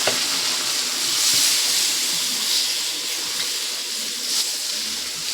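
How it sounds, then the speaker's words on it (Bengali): Fish curry with potato, eggplant and tomato sizzles in a pan as water goes in and is stirred, giving a steady broad hiss of steam and frying with faint scraping underneath. "জলটা দিয়ে ভালো করে নেড়ে নেব।"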